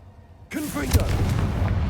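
A Confringo explosion spell in a Hogwarts video game bursts in suddenly after a brief hush, a booming crack followed by a sustained noisy rumble with swooping, whistling tones riding over it.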